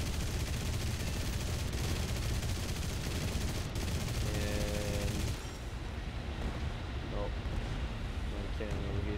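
Aircraft cannon on a Russian plane firing in the War Thunder video game: a dense, continuous roar of rapid fire over engine and wind noise that drops off after about five seconds, with a brief spoken word.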